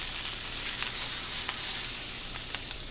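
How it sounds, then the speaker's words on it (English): Diced onions sizzle in hot extra virgin olive oil in a restaurant pan, a steady close hissing crackle with faint pops and no talking. "We're going to throw in some diced onions."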